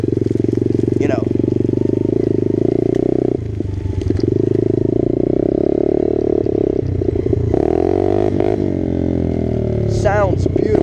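A Yamaha motorcycle engine running on a cheap $36 eBay carburetor idles with a loud, steady, throaty drone, a brief dip in the middle, and a person talks over it.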